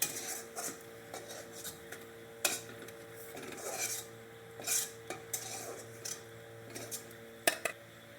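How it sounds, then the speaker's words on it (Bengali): A metal spoon clinks and scrapes against a wok as fried onions and garlic are lifted out, giving irregular sharp taps over a faint low sizzle, close by and fairly quiet. "পেঁয়াজ রসুন আমি লাল করে ভেজে নিয়েছি এখন আমি তুলে নিচ্ছি"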